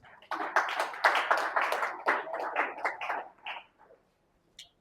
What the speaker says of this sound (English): Please, let's clap for her as she comes.